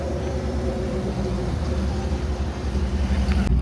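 A Whipple supercharged Ford F150 truck engine idles with a steady, deep rumbling drone, close and continuous throughout.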